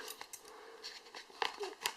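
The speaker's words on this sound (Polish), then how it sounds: "Ja tu sobie przygotowałem nożyczki, będzie szybciej." Scissors cut open a postal parcel in a series of quick, crisp snips and faint crinkles, quiet and close, with no talking.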